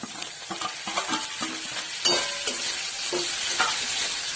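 Tomatoes frying with softened onion in a pan for a Maharashtrian ghevda bean bhaji, a steady close sizzle broken by repeated scraping stirs of a spoon, growing louder partway through.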